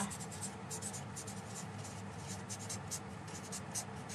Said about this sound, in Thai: เดี๋ยวพี่เขียนใส่แผ่นใหญ่ก็ได้